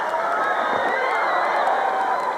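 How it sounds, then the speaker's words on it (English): Stadium crowd at the 1990 Goodwill Games men's long jump, a steady wash of distant applause and cheering, with a commentator's voice faintly under it. "They are applauding the good performances"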